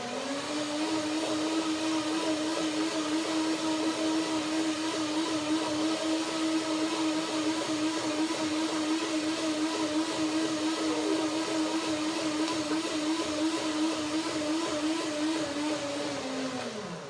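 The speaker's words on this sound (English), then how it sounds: "So I blend one more time to make it really creamy, my cashew cream, and I will do the second blender dance." A kitchen blender whirs steadily at full speed for the whole stretch, blending cashew cream into a smooth, creamy mix, with a loud, even motor drone and no pauses.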